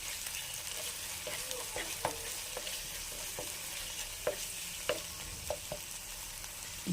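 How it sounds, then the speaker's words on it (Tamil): Onion and spice masala with coriander powder and salt frying in a pan for a spicy meal maker fry, stirred with many light, scattered scrapes over a continuous gentle sizzle. "எல்லாத்தையும் நல்லா மிக்ஸ் பண்ணிடலாம்."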